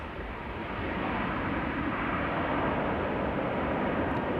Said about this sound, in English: The Embraer 175 is coming this way, so we get another nice head-on shot.